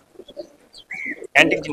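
Malwai pigeons in a loft give brief, close coos, with a voice briefly mixed in.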